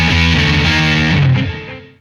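An electric guitar plays a riff through light distortion, loud and close, with sustained chords that ring out and fade at the end; no one speaks.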